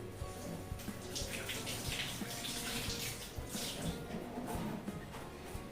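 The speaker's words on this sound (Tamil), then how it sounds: "இது ஒன்று வாஷ் பண்ணிப்போம்." A bitter gourd is washed under a running tap, giving a continuous, moderately quiet splash of water with small irregular spatters and no voices.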